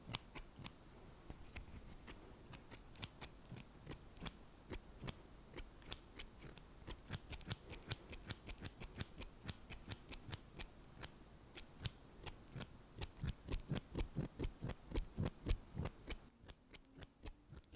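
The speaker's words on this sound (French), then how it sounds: "Ce sont des ciseaux très pointus qui coupent bien, qui découpent bien." Small, very pointed scissors snip repeatedly up close in a quiet room, a crisp rhythmic series of metallic clicks that speeds up and grows louder near the end.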